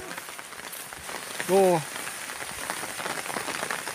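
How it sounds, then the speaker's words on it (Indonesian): Steady rain pours onto surfaces outdoors, a constant close hiss of drops throughout, briefly interrupted by a short spoken syllable. "Hujan lagi."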